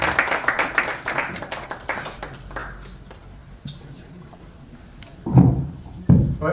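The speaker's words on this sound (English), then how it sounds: "Right, let's give a good round of applause to Ndindi." Audience applause following a political speech, scattered claps that start fairly dense, thin out, then end with a couple of loud, close single claps.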